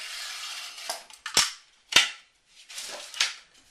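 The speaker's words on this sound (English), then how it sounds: "Just kind of snap it and then flip it over and score your paper on the back edge." Drywall paper being scored with a utility knife and the gypsum board snapped along the line, a series of sharp, loud cracks and scraping strokes close by with no talking.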